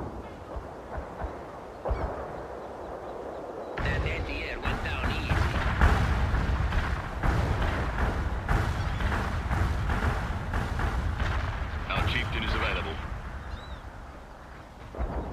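Artillery barrage in the World in Conflict video game, a dense run of booming explosions and crackling blasts that build into a sustained loud roar, with brief sharper bursts layered on top.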